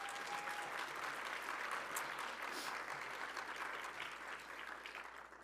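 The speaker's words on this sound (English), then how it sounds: "yes, please a round of applause" Sustained audience applause greets the Secretary of Commerce at a Latino economic growth discussion, a dense, even roar of many clapping hands that holds steady and then gradually thins toward the end.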